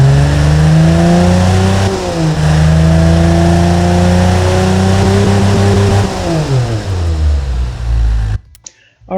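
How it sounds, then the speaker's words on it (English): A 1974 Ford 300ci inline-six engine in the game Automation, fitted with a cheap exhaust, revs repeatedly, pitch rising and falling through several throttle sweeps, loud and continuous, then cuts off abruptly near the end. "And it will sound better actually."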